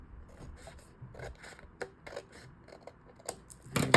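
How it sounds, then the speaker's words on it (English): Scissors snip off excess paper in a series of quick, light crisp cuts, fairly close, ending with a louder rustle. "I have a little bit of overage here, so I'm just going to cut that off really quick."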